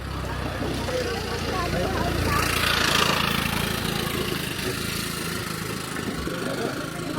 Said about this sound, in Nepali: ओइ बाइक आयो